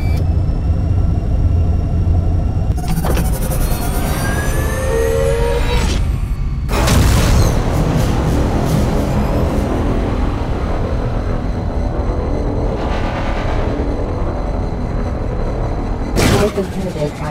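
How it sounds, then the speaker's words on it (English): Spaceship engines roaring at full thrust in the space game Rebel Galaxy, a loud continuous rumbling drone with bursts of whooshing and sharp booms over it, while a computer voice talks. "Engines at maximum."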